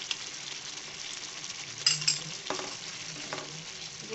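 A spoon stirs cream into kadhai mushroom in a pan, with a soft continuous sizzle, faint scraping and a couple of brief clinks against the pan.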